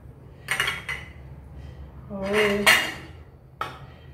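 A spoon clinks and scrapes against a bowl while mixing flour with sesame, salt and turmeric for spicy masala puri. Short bursts of clatter come in three or four separate clusters, with quiet gaps between them.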